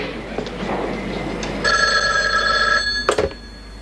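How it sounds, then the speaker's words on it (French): A telephone rings with a steady electronic trill for a little over a second, followed by a clunk as the receiver is picked up. Faint background voices and room noise sit underneath. "Je vais appeler Madame Dupré"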